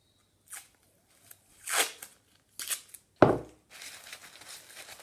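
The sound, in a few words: masking tape or sellotape taping newspaper balls together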